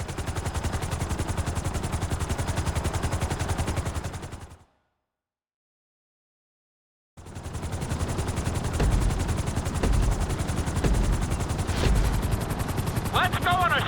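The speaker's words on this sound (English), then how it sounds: "we're gonna put you in a helicopter for this lesson." A helicopter in GTA 5 drones steadily with a dense, chopping rotor roar, cut off briefly by a few seconds of silence and then resuming at the same loud level.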